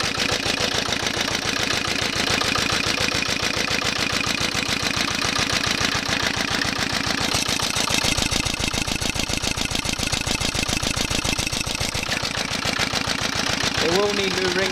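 A 1962 Petter PAZ1 single-cylinder engine runs steadily close by, a fast regular thumping beat going on without a break while it burns off excess carbon. Faint talk sits underneath.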